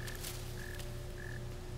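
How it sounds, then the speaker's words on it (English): Frogs croak in short repeated bursts in the video game Black Myth: Wukong, three evenly spaced calls sounding over a steady ambient drone with no talking. "There's gonna be frogs in here."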